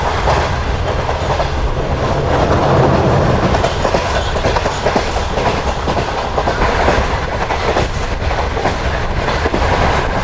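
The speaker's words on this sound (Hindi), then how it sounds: "तो ये कुछ स्पीड है ट्रेन की" Shalimar Express passenger train running at speed after leaving Samasata Junction, a loud continuous rumble with rhythmic clickety-clack of wheels over rail joints, heard from on board with no talking.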